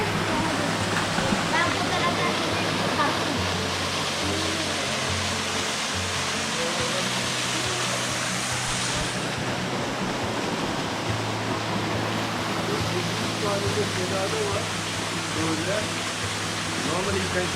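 Steady roar of Erfelek Tatlica waterfall in Sinop, Turkey, a loud, continuous rush of falling water filling the scene from start to finish, with a low hum underneath and no clear talk.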